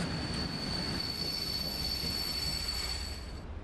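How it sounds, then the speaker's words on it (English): A steady, loud metallic squeal of train wheels in a railway simulation game set in Yorkshire, holding a constant high whine over a rumbling bed with no voices. "we've got a train coming out"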